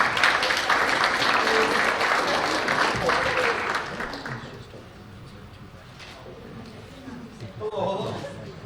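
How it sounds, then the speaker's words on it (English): Comedy and magic show audience clapping as a young woman is invited on stage, loud applause for about four seconds that fades, with voices and scattered sounds afterwards. "Big round of applause"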